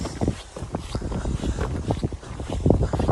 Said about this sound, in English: So sorry about the wind.